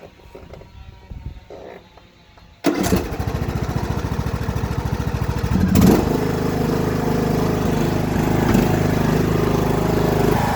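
Quiet rustling, then a lawn tractor engine, just given an oil change and tune-up, sputters to life and settles into a loud, steady running drone that continues to the end.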